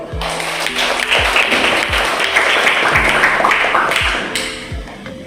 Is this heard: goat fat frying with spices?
no